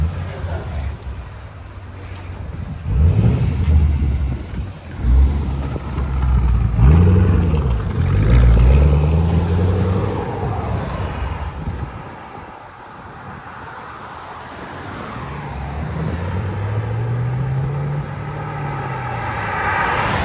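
A Chevy Camaro SS with a 6.2L V8 and long tube headers roars past in bursts of exhaust, swelling and fading several times, then a lower rumble returns near the end, with wind noise.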